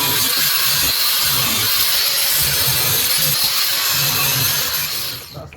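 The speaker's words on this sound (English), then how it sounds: "So I'm going to cut these bad boys down with a grinder." An angle grinder with a grinding disc cuts through metal bolts on an old flightcase trunk, giving a loud, continuous abrasive whine and hiss that runs for several seconds before winding down.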